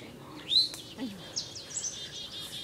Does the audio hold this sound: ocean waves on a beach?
no